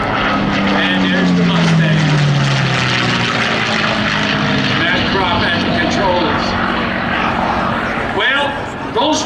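A P-51 Mustang warbird flies past at the Greenwood Lake Airshow 2024, its propeller engine droning loud and close with a falling pitch as it passes, under a commentator's voice.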